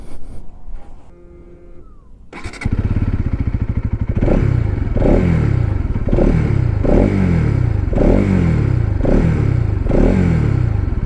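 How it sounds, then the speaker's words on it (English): A Bajaj Pulsar NS200 motorcycle starts up after a few seconds of quieter sound, then its exhaust blats through a steady run of about eight loud, rhythmic revs close by. "I'll turn on the motorcycle and I'll make you hear the exhaust sound"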